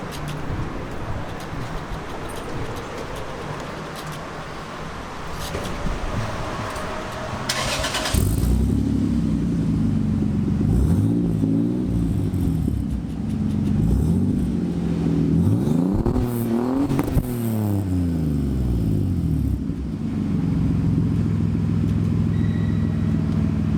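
A Toyota Supra with an aftermarket exhaust idles faintly, then fires up with a loud start and settles into a deep rumble, with several sharp revs rising and falling close by.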